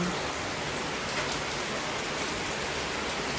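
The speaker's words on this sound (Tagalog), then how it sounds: "bigla na naman pong bumuhos ang ulan" Heavy rain pours down in a dense, steady hiss that holds unchanged throughout, with no other sounds breaking through.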